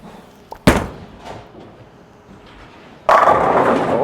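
A Roto Grip Idol Helios bowling ball gives a sharp thud as it is released onto the lane, followed by a quiet roll and then a loud burst of pins crashing near the end.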